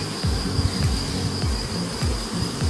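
Honeybees buzz densely at an open, heavily populated beehive in full production, a continuous close swarm drone with individual bees sweeping past in repeated passes.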